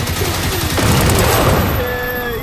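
AK rifle gunfire in a video game, a loud continuous burst of rapid shots that fills the whole moment.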